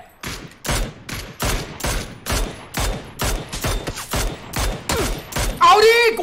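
Rapid bursts of PUBG gunfire crack out in a steady rhythm, loud and close, with a brief electronic sound effect at the end.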